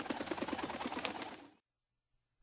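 A pigeon or dove coos in soft, rolling, repeated pulses for about a second and a half, close and clear, then stops abruptly into silence.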